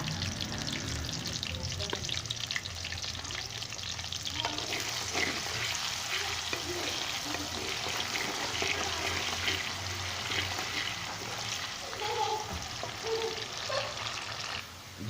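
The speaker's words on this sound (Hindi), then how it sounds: "अभी इसमें मैं प्याज शामिल कर लेता हूँ। और इसको मैं सुनहरा कर लेता हूँ प्याज को।" Onions frying in hot oil for a Pakistani kaddu and chana dal dish, a steady close broadband sizzle with occasional stirring scrapes and clatters throughout, no talking over it.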